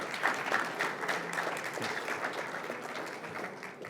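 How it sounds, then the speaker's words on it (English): Conference audience applauding panelists joining the stage at a tech event, a moderate, steady patter of clapping that stays fairly even and fades a little toward the end. "Give these guys a big round of applause for agreeing to come up here on stage with me today."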